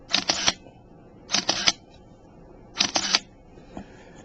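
A single-lens reflex camera fires three separate shutter releases with the lens stopped down to f22 and a slow shutter speed. Each release is a crisp cluster of mechanical clacks a few hundred milliseconds long, heard close and clear, with quiet gaps between them.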